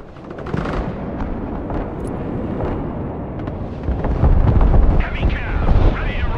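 Artillery strike explosions in the video game Broken Arrow, a dense rumbling wash of blasts that swells louder toward the end, with talk mixed in.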